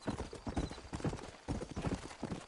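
Hooves of a horse gallop in Red Dead Redemption, a steady, close clip-clop rhythm of rapid thuds running continuously with no voices over it.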